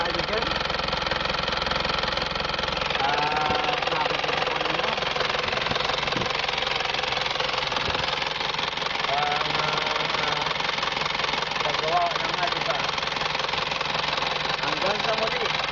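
Isuzu direct injection engine fitted with an HHO hydrogen kit, running steadily at idle with a dense, continuous rumble and light knocking that holds level throughout, with voices faintly in the background.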